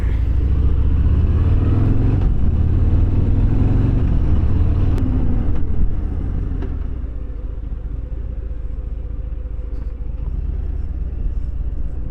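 A Harley-Davidson Fat Bob motorcycle rides past with a deep, loud engine rumble that holds steady, then drops to a lower, steady idle-like drone as it moves away or slows.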